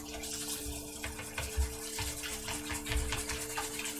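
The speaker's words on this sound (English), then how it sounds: "Washing the rice." Rice is washed under a running tap, a steady close splash and trickle of water with a faint low hum beneath.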